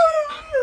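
A dog lets out a single brief, wavering howl-like whine that slides downward in pitch, heard close and clear with no talking.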